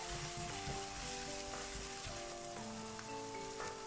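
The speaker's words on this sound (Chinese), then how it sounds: "油热之后倒入肉末，翻炒至肉末完全变白" Minced pork fries in hot oil in a wok with a faint, continuous sizzle and light crackling. Quiet and steady, with occasional scraping from stirring and a faint background hum.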